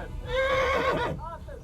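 A horse in the medieval game Kingdom Come Deliverance lets out a close, loud whinny with a wavering, descending pitch, followed by a shorter second call, while game voices shout and talk over it.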